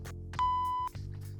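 Censor beep covering a swear word: a single steady electronic tone of about half a second, clean and prominent, with quiet voice fragments before and after.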